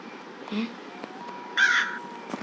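A crow in the video game Granny 3 caws twice, a short call followed by a longer, harsher one, over a quiet, faintly humming background.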